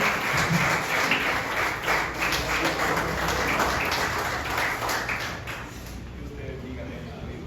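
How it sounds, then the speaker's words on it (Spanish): Strong applause from a church congregation for a visiting pastor at a Sunday morning service, dense steady clapping filling the room for several seconds before thinning out slightly, with some voices mixed in. "Démosle un fuerte aplauso por la vida del jugador."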